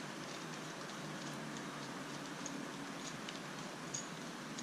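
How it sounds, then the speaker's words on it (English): Soft, steady rain patters outdoors, a faint continuous hiss with a few scattered ticks of drops. "it's just started raining."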